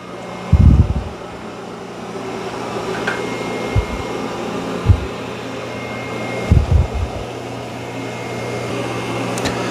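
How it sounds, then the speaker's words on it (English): A robot vacuum with its mop pads raised cleans a carpet, giving a steady low motor hum with a few soft bumps and thumps along the way. "it's going to clean this carpet since it's got its mop pads raised"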